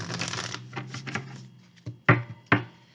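Tarot cards are shuffled by hand in a rapid riffling burst, followed by a few sharp separate slaps and taps as the deck settles, close and clear with no talking.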